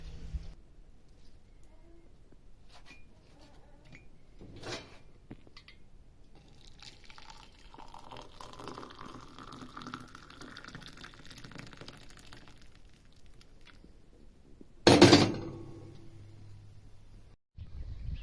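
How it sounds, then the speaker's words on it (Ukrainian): Tap water runs steadily into a basin to rinse jars for jam, a soft continuous flow in the middle of the clip, followed by a brief louder splash near the end. "Ось набираю другу воду, пополощу ще в другій і поставлю"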